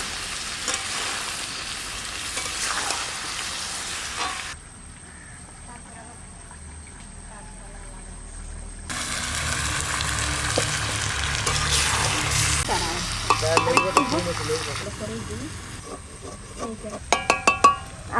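Mutton being stir-fried for a spicy curry, cooked outdoors in the rain, gives a loud, hissing sizzle with a quieter gap midway, then returns with stirring scrapes and clinks as a person talks.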